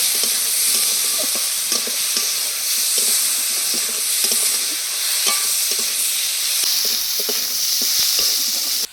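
Shrimp sizzle and fry in a hot pan with onion and garlic, a steady dense crackling hiss running throughout with small stirring clicks and scrapes, close and fairly loud, no talking.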